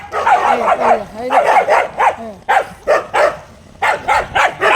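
A dog barks repeatedly in loud, close bursts, with short gaps between volleys.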